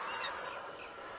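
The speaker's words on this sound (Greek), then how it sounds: "Αυτά είναι τα μικρά μου τα γεράκια." Baby hawks in ARK: Survival Evolved give a short, close, continuous run of high, squawking calls, heard alone without talk.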